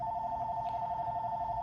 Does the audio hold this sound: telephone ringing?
yes